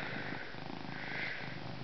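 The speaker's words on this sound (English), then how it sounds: "I hear you purring." A heavy domestic cat purrs close up in a soft, continuous low rumble with a steady rhythm throughout.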